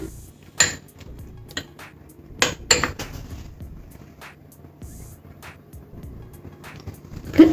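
A spoon clinks and scrapes against a bowl while garlic butter is mixed, sharp intermittent knocks over soft stirring, close and fairly quiet.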